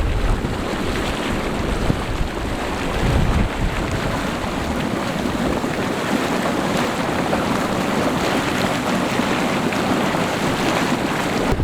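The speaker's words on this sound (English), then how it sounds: "A natural mud pot where steam's venting through mud and hot water." A continuous, broad hissing roar of steam venting through a natural mud pot of mud and hot water, with no pauses and no voices, holding a steady level throughout.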